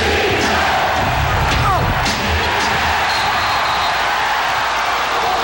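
A packed Seattle basketball arena roars at a 1993 NBA Western Conference Semifinal Game 7 against the Rockets, with dense, sustained crowd noise and a few sharp cries rising above it.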